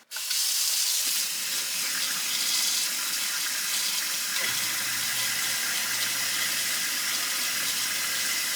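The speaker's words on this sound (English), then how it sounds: "you're going to run the disposal with a full stream of water for 1 minute." A kitchen sink garbage disposal runs under a full stream of tap water, a steady loud rushing wash with a low motor hum joining partway through and continuing.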